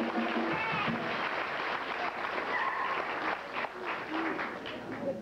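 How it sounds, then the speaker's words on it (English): Audience applause at a live saloon stage show, steady crowd clapping with scattered whoops filling the whole stretch at moderate loudness, with a voice or two calling out over it. "Give her a round of applause."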